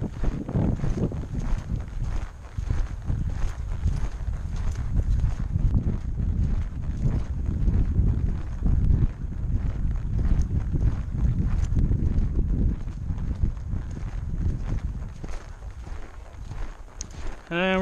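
Horse hooves thud and clip-clop steadily on soft ground during a riding training session, a continuous rhythmic footfall with some wind noise on the microphone and faint voice in the background.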